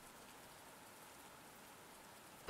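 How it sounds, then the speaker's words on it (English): Soft, steady rain in a video game hisses evenly throughout, a quiet, continuous patter with no voices over it. "why can I still hear the rain?"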